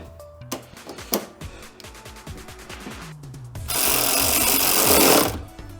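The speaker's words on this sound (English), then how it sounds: "But with the impact driver it will." Impact driver tightening a bolt on a J's Racing intake on a DC5 car; a rapid hammering rattle builds in short bursts, then a loud sustained impacting burst lasting over a second, close by with no talk.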